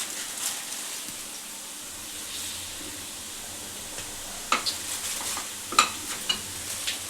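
Garelu, Telangana-style lentil fritters, frying in hot oil on a stove, a soft continuous sizzle with a few sharper pops and crackles toward the end, no speech.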